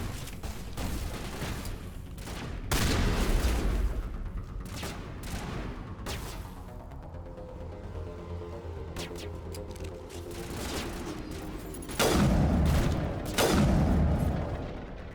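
Shotgun blasts in the video game Mass Effect Legendary Edition, a few loud booming shots spaced apart amid continuous combat noise and scattered gunfire.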